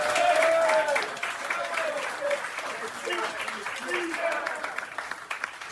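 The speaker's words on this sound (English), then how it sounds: "So please clap it up for Jake." A tavern crowd at a Jets fan party applauds host Jake Asman, a dense burst of clapping that gradually thins, with voices and cheers mixed in.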